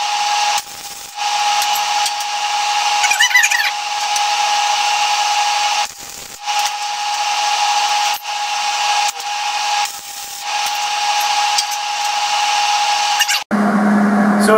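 Flux core welder tacking a steel brace for a trailer-mounted radar device, a loud steady crackling hiss broken into several bursts with short pauses between them, close and alone with no talking.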